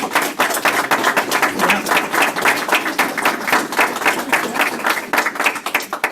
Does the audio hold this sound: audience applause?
yes